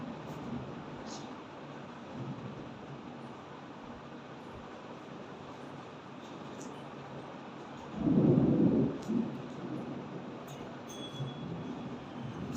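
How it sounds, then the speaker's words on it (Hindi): Thunder rumbles during a storm, a low muffled roll swelling briefly and then fading over a steady quieter background. "देखिए मौसम खराब है, बिजलियां चमक रही है, बादल गरज रहे हैं"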